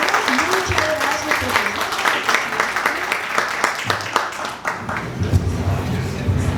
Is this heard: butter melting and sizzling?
no